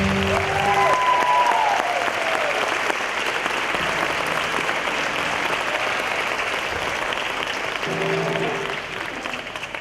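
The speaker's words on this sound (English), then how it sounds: "Let's give him another round of applause." Steady, dense audience applause at an awards gala fills the whole stretch, with faint music or voices showing briefly beneath the clapping.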